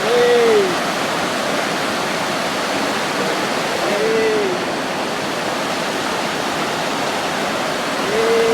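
Water flows steadily through a rice paddy, a continuous rushing wash heard close and fairly loud. A few short rising-and-falling tonal calls come through faintly over it.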